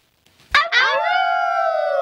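A dog howls loudly and close by. A couple of short yips lead into one long, sustained, wavering howl that holds steady to the end.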